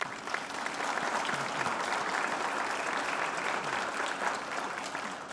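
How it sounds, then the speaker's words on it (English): Steady, sustained audience applause fills a Republican congressional district candidate forum, dense and even throughout with no pauses, rising slightly in the middle before holding level to the end. "Let's give them a round of applause."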